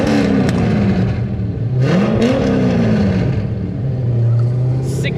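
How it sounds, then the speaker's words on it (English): A car's exhaust, fitted with QTP exhaust cutouts that are open, revs loud and close, with a deep rumble that swells and settles back to a heavy idle. "it is much louder with the cutouts open"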